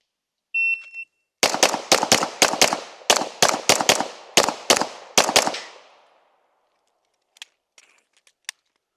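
Rapid series of sharp gunshots, about a dozen loud bangs fired in quick bursts during target shooting training, followed by silence and a few faint distant clicks.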